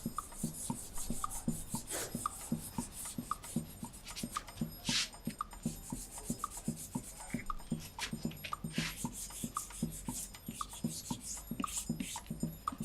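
Paper is rubbed by hand over an inked styrofoam printing plate, making soft, close scratchy strokes that repeat in a steady rhythm with brief pauses, and no voices are heard.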